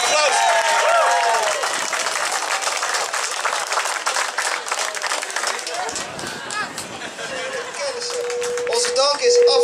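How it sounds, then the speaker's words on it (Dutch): Applause and crowd noise at an outdoor New Year's dive event in Assen, a dense, steady wash of clapping and cheering that carries through the whole stretch, with some speech mixed in. "Applaus."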